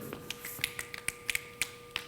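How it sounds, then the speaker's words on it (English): A crowd at a keynote talk snapping fingers quickly, a scattered run of sharp, crisp snaps, some overlapping, ringing out across the room with no speech. "with your dominant hand, snap your fingers 5 times very quickly"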